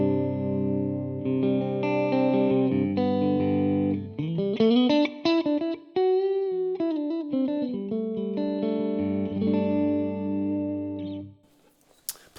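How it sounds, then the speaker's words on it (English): Clean electric guitar through a Quad Cortex capture of a Fender Super Reverb and Dumble ODS, playing chords and a rising-falling melodic line with a bright, sustained tone, loud and close, fading at the end. "So for my clean sound, what I'm using is a Fender Super Reverb"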